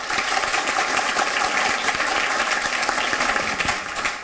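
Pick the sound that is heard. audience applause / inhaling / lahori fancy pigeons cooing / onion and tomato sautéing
audience applause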